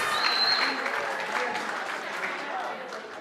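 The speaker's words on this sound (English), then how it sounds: "Please give a round of applause for our 2023 LaunchU Summer Experience teams." An audience applauds the teams of a 2023 summer program at its finale. The applause is steady and fills the room, tapering slightly toward the end, and voices can be heard alongside it.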